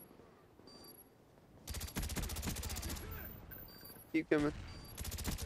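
Sustained automatic gunfire in the video game Call of Duty: Black Ops, with rapid bursts of shots and a few short voice lines from the game.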